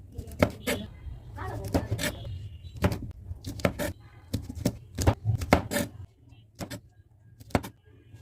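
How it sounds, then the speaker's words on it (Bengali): A knife chops yardlong beans (borboti) on a board in a home kitchen, giving crisp, close taps in irregular bursts with short pauses between the runs of cuts. "এখন বরবটিগুলো কেটে নিব"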